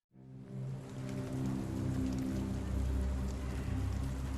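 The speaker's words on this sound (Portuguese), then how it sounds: "Nossa, e essa chuva de canivete, velho?" Heavy, dense rain pours steadily in the Sherlock Holmes The Awakening video game, a loud, continuous hiss with a low rumble underneath that swells after the first second and then holds.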